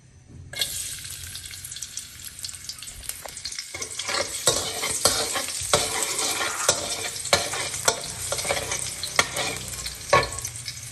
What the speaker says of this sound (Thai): ต่อไปเรานำเครื่องผัดใส่น้ำมันก่อนเลยครับ